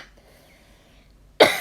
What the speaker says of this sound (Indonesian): maaf saya lagi batuk ya,